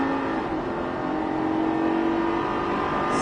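A Lamborghini Gallardo LP-560 V10 at full throttle gives a loud, sustained engine roar with a steady high whine, heard from inside during hard acceleration on a track.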